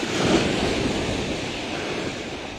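Ocean waves wash against a shore and a crumbling concrete breakwater along a village road, a steady broadband roar mixed with wind buffeting the microphone.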